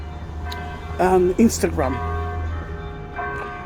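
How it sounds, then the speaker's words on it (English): Church bells ring out from the church beside the Garden of Gethsemane, sustained tones hanging steadily in the background while someone talks over them. "Oh, you can hear the bells."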